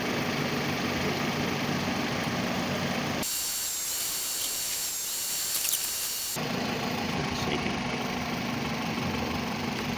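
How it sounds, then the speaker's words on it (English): A 2001 Toyota RAV4 engine idling with the AC compressor pump running, a steady mid-pitched hum and vibration close by, with a brief stretch in the middle where the sound shifts and the high hiss drops away. "So right now the AC pump's running"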